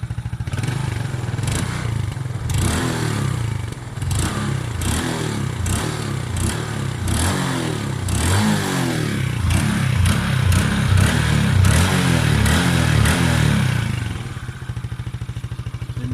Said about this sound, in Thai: สตาร์ททีเดียวติดเลย เครื่องนิ่มๆ นะครับ